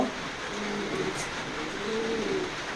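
Racing pigeons in a loft give soft, low cooing calls, faint and repeated over a steady background hiss with no talk.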